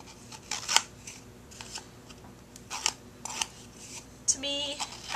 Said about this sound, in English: I'm going to take my scissors and distress the edge by doing this.